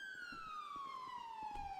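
A police car siren wails in a GTA role-play game, a clear falling electronic tone gliding steadily downward, fairly faint over a low rumbling background with no talking.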